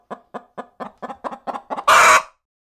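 A live chicken clucks in a steady run of about nine short, evenly spaced calls, then lets out one louder, longer squawk at the end, heard close up with no voices.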